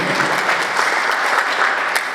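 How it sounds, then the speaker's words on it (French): Audience applause at a press conference in South Kivu, a thick, continuous burst of many people clapping at a strong, steady level, heard alone without talk. "si on peut applaudir"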